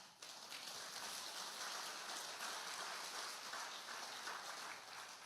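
Faint, thin applause from a church congregation, a soft continuous patter of scattered clapping that holds steady for several seconds with no voices over it.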